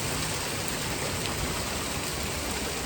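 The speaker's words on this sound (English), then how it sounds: "Look at all that hail." Hail pouring down during a severe springtime thunderstorm, a dense, steady roar of impacts filling the whole clip at close range with no talk.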